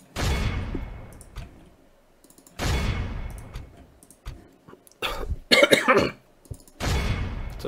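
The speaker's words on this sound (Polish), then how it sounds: "Sorry za kaszel." Several loud, close coughs from a man, coming in separate bursts with a short, sharp pair of coughs in the middle, and brief quiet gaps between them.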